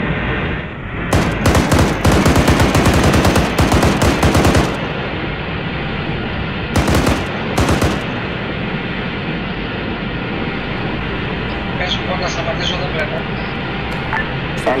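Tank cannon and gun bursts in a Desert Storm armored milsim game, loud rapid firing in two clusters over constant engine rumble, with radio chatter from players throughout.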